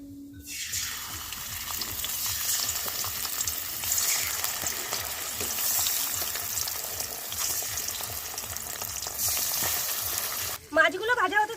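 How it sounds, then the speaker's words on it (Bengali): Bata fish frying in a pan with loud, steady sizzling and crackling of hot oil, then a brief clatter and a voice at the very end. "মাছগুলো ভাজা হতে থাকুক"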